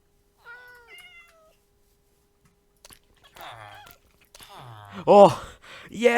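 A tamed cat in Minecraft survival version 1.18 gives a few short meows with quiet gaps between them, followed by excited voices talking nearby.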